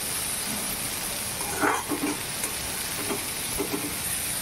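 Chopped onion sizzles in a hot pan with roasted chillies for kurdai bhaji, a steady close hiss with a few soft stirring scrapes and crackles.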